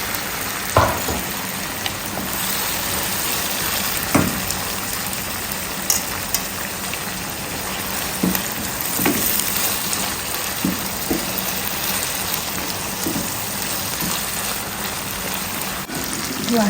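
Mackerel sizzles in hot palm kernel oil for a cocoyam ampesie and garden egg sauce, a continuous crackling fry with occasional sharper pops and spits.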